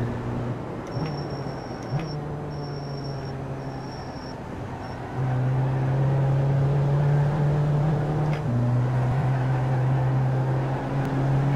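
Race car engines, including diesel cars, drone steadily in the iRacing sim racing game, with sustained tones that shift in pitch as the cars accelerate after a green-flag restart, a near, continuous mechanical hum.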